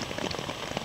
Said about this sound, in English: Getting rained on. But I'm staying dry.